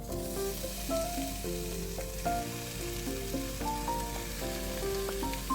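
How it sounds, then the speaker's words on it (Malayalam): Chicken pieces sizzle steadily in a pan of frying onion and chilli for a spicy Kerala-style dish, a dense continuous crackle with no pauses, with melodic background music playing over it. "ഇതിലേക്ക് ചിക്കൻ പീസ് ചേർത്ത് കൊടുക്കാം."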